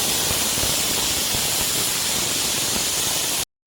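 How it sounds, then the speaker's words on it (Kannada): Steady, loud hiss of steam venting from a kitchen pressure cooker whistle, sustained without a break for over three seconds and then cutting off abruptly. "cooker 3 whistle ಕೂಗಾಯಿತು"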